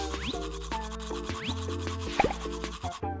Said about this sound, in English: First, let's brush his teeth.